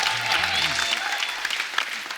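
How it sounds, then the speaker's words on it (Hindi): Loud, dense applause from a studio audience on a comedy show set, a continuous burst of clapping lasting a couple of seconds. "शुभ मंगल ज्यादा सावधान के लिए एक बार जोरदार ताली हो जाए"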